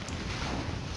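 Steady wind gusting outdoors in the survival game The Long Dark, a continuous broadband rush that stays loud and even throughout, with no voices over it.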